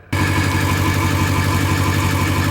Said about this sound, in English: We got a Magnaflow exhaust on here.